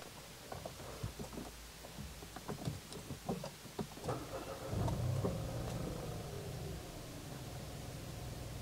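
A 2014 Mitsubishi Mirage Exceed automatic's engine cranks a few times, then catches and settles into a steady idle hum that continues to the end.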